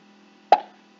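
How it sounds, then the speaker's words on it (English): One short, hollow plop as the ball bounces in a Scratch ping pong game, a single close tick over a faint steady hum. "you can see the scores will come, the sounds will come, and the ball will bounce."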